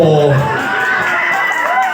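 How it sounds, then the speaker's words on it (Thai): Live show audience erupting in loud cheering and shouting, a close, dense crowd roar lasting about two seconds with voices mixed in. "ขอเสียงปรบมือ"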